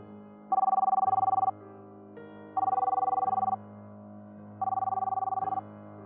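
A telephone ringback tone purrs three times in even bursts with pauses between, heard close from a public phone booth over a low steady hum.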